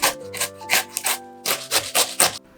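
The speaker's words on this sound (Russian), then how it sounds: "Свежий огурец тру на терке." Fresh cucumber is grated on a hand grater in a kitchen, making about nine quick, rasping strokes in uneven bursts, close and clear, over faint background music.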